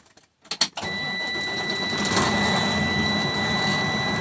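A truck engine starts with a few sharp cranking bursts, then catches into a loud, steady idle with a constant high whine on top, close to the microphone and with no talking.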